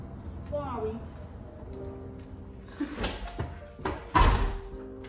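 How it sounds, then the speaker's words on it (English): A door being closed in a home, ending in a single firm thud near the end, preceded by shuffling and handling noises. "I gotta close the door."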